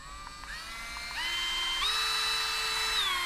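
Harbor Freight Bauer 8v cordless rotary tool running at close range, a thin high-pitched whine that steps up in pitch twice as the speed is raised, then holds steady.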